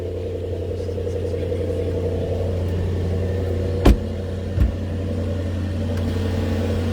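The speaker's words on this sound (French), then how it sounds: "Vous entendez le moteur." A Maybach car engine idles with the hood open, a steady low hum heard up close, broken by two sharp clicks a moment apart.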